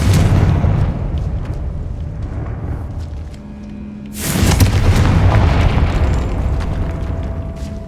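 A Confringo spell explodes in the video game Hogwarts Legacy: one sudden, loud blast erupts partway through, then a dense rumbling wash trails off over a steady game background.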